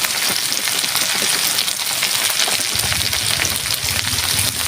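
Ivy gourd (kudri) frying with salt and turmeric in a pan, a dense loud crackling sizzle like heavy rain, steady throughout and close, no talk.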